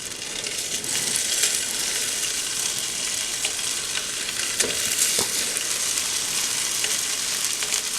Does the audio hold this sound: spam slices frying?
yes